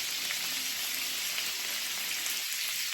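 Vegetables fry in a pan for restaurant-style Hakka noodles, giving a steady, close hiss and crackle of sizzling oil that continues without a break.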